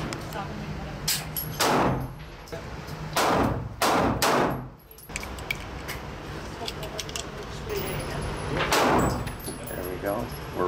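Handgun shots at a shooting range crack out in a series of sharp, loud reports, some close together and some spaced apart, over steady room noise and faint voices.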